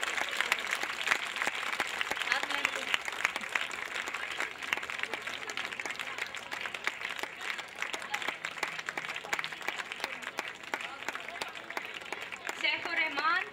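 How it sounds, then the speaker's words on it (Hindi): An audience at an annual school program claps continuously and steadily for the length of the stretch, a crowded, moderately loud patter with voices faintly mixed underneath. "आप तालियां बजनी चाहिए और तब तक बजनी चाहिए जब तक बच्चे स्टेज नहीं छोड़ते।"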